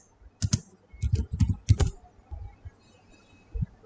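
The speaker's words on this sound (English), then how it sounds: "Let's type the command and hit enter." A git pull command is typed on a computer keyboard as a short run of close, crisp keystroke clicks in quick clusters, followed by a pause and one final key press.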